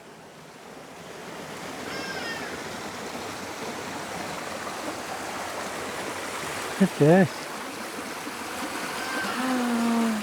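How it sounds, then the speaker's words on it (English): Water rushes steadily down a channel feeding a water mill in Elim, Western Cape, South Africa, a continuous strong roar with brief bird calls and someone speaking over it. "And this is the water they use most probably for the mill as well, for the water mill."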